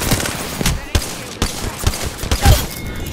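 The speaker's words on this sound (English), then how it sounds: "I got bad guys shooting at me." Rapid gunfire from a video game shooter crackles in loud, repeated bursts, with sharp shots close together and some quieter speech mixed in.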